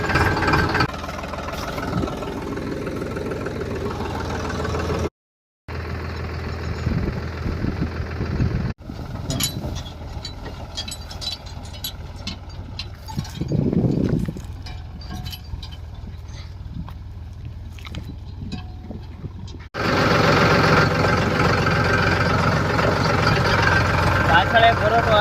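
A farm tractor idles in a rumbling, steady drone at close range, with the sound shifting and cutting out briefly partway through as the scene changes, and people talk over parts of it.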